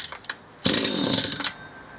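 A STIHL HT 75 pole pruner's small two-stroke engine fires on a cold choked pull start: a few faint pull-cord rattles, then a loud buzzing burst of engine noise for about a second before cutting out.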